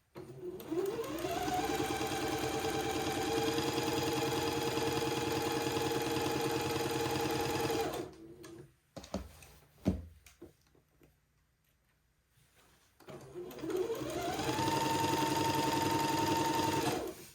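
Sewing machine running steadily through a first pass of French seams on both sides of a daygown, speeding up and holding a long even whir, pausing briefly with small handling clicks, then starting up again.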